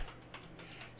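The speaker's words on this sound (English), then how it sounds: "you can type sudo apt" Quick, close clicking of a computer keyboard as a command is typed on a Linux machine, with a few keystrokes landing in a steady, light rhythm.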